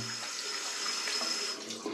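Steady stream of water running from a tap into a sink as hands are rinsed of lotion, close and continuous for the whole two seconds with no talking.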